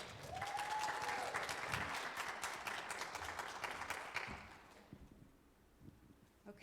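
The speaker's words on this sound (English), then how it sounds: "So please give her a round of applause." Applause from an audience at a ministry gathering, a dense wash of clapping that holds steady for several seconds and then fades away.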